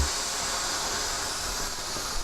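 A steam cleaner blasts a box spring during bed bug treatment, producing a loud, continuous, broadband hiss that stays steady from start to finish.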